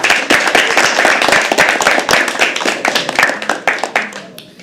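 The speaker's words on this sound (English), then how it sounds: "Can we please have a round of applause?" Close, dense audience clapping at a live poetry open mic at The Habitat, brisk and uneven hand claps that thin out and fade near the end.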